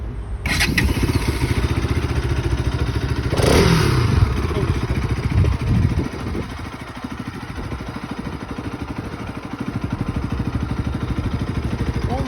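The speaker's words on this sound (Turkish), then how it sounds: "Motoru kontağını çevirdik" A 2023 RS200 motorcycle engine catches after the ignition is turned, with a brief starter crank and rising rev, then settles into a steady, loud, close idle with a rhythmic mechanical throb and occasional clatter.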